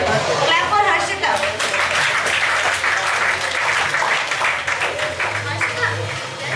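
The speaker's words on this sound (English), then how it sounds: "Clap for Harshita." A classroom applauds a student at a spoken English class, with steady, dense clapping from many hands that holds at an even level throughout, with faint voices underneath.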